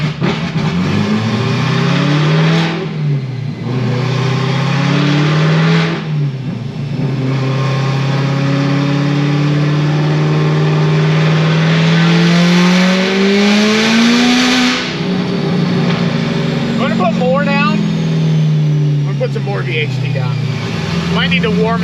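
A supercharged C7 Corvette Z06 with a stock blower, RPM Stage 4 build and new cam, roars loudly on a chassis dyno, its engine pitch climbing through long sustained pulls with brief lifts between, close and dominant throughout.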